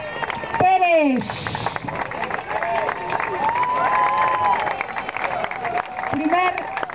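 A crowd applauds and cheers steadily through a prize ceremony for a 10k road race, with voices and a few shouts rising over the continuous clapping.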